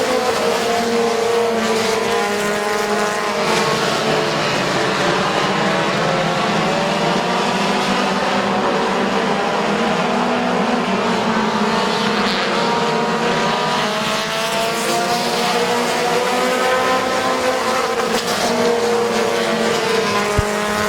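Race cars roar around the oval at Midvale Speedway in a loud, continuous pack, engines droning and shifting in pitch as cars pass close by, with no talk.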